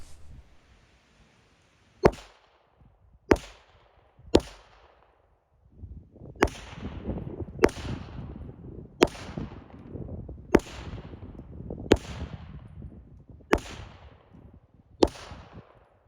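Sharp 9mm pistol shots fired one at a time during accuracy testing with reloaded 147-grain Speer bullets and Titegroup powder, about ten loud cracks at irregular spacing, each with a ringing tail, alone without talk.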